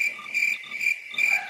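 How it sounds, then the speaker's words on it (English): Cricket chirps at a steady high pitch, pulsing in short trills with brief gaps between bursts, fairly close and clear, alone without talk. "Crickets."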